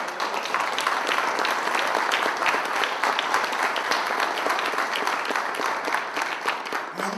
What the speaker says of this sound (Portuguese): E eu queria pedir uma salva de palmas a uma pessoa que entrou agora